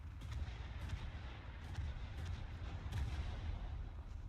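Naval gunfire in War Thunder sounds as distant, muffled booms repeating every second or so over a steady low rumble of battle ambience and engine noise.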